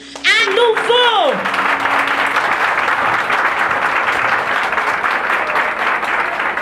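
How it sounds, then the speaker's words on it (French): A school audience at a children's singing contest final claps loudly and steadily after a brief sung or voiced note at the start, the applause filling the hall without pause. "je vous demande de les applaudir à nouveau"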